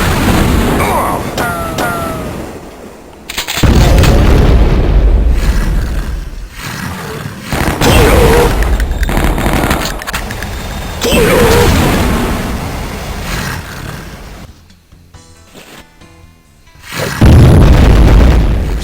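Heavy booming blasts from a turret firing in the video game Shadow Warrior, loud explosive bursts arriving at intervals through the stretch, mixed with mechanical game noise.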